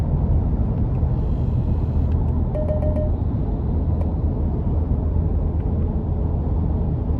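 Cabin of a 2025 Nissan Armada SL pulling hard from about 40 mph, a steady deep engine and road drone with a few faint clicks, no one speaking.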